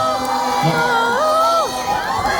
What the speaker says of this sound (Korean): 자리 안전하게 착석하셔서 큰 소리로 환호하시면